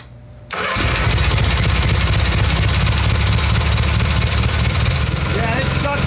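A Kohler Magnum engine on a Simplicity Sunstar tractor cranks and catches after a brief quiet moment, then runs at a steady, loud, close rumbling idle for several seconds.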